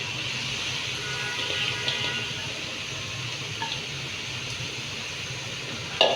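Chana dal and mutton frying in a pan give a steady, even sizzle and hiss with faint scraping, a soft clatter near the end, no voices.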